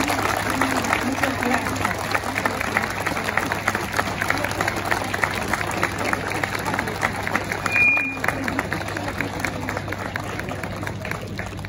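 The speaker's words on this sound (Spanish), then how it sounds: "Y hacemos la despedida de la banda agradeciéndoles con un fuerte aplauso a" Audience applause for a military band at a May 25 patriotic celebration at Mercado Norte, steady dense clapping sustained throughout under a faint hum, with a brief whistle partway through.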